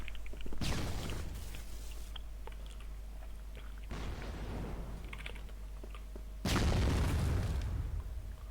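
Grenade blasts in a shooting video game, two or three heavy booms with rumbling tails spaced a few seconds apart, loud and close, with light clicking between them.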